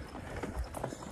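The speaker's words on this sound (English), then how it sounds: "I'm going to leave you with these little clips of my new baby horse Million" A young stallion's hooves clip-clop at a walk, soft rhythmic knocks at moderate distance over a low background.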